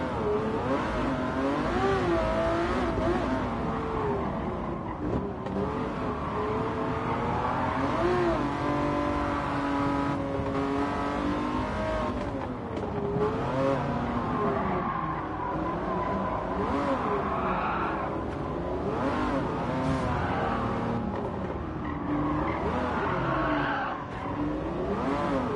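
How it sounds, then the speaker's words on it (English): A 1988 Lamborghini Countach 20th Anniversary in a racing video game, its engine roaring loud and steady throughout with revving pitch swings and tire noise, no talk over it. "That car that just passed, the 20th anniversary Lamborghini Countach from 1988, I want that"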